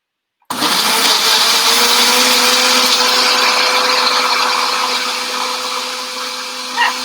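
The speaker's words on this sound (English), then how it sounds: "A very loud blender." A loud blender whirs to life abruptly and runs steadily, grinding a paste for Moroccan chicken kabobs with a harsh motor roar that eases slightly toward the end.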